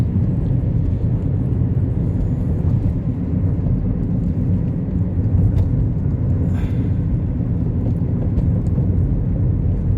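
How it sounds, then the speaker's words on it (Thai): Busy Pattaya road traffic on a cool morning, a dense, steady low rumble of many passing cars and engines heard from inside or beside the road, continuous without speech. "วันนี้ทำไมรถเยอะจัง ปกติรถจะโล่ง"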